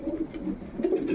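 Pigeons coo in low, throaty, rolling calls, close by and fairly loud, repeating through the short stretch with no talking.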